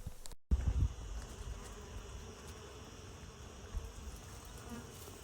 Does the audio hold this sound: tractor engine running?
no